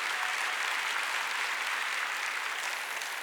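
A church congregation breaks into steady, dense applause that fills the whole stretch evenly, loud and sustained with no voices over it.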